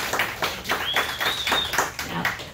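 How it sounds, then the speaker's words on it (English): A comedy club crowd claps and applauds for itself in a steady, dense burst of hand claps lasting a few seconds, with a faint whistle riding over it. "One more time, clap it up for yourselves."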